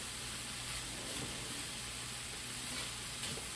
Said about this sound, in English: sit here and stir ground meat